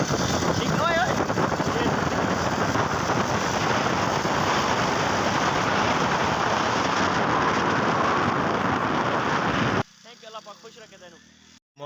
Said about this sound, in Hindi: बारिश ही बारिश है माशाल्लाह, क्या सही मौसम है